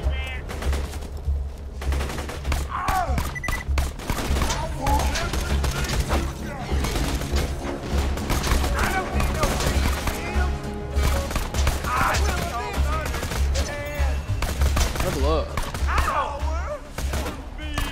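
Pistol shots in the video game Borderlands 2 crack out in rapid, repeated bursts across the whole stretch, loud and close, with players talking over the shooting.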